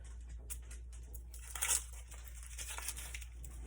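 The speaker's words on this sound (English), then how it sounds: "So first we're going to peel the onion." An onion being peeled by hand nearby, brief papery tearing and crinkling of the dry skin over a low background hum, with a louder rip partway through.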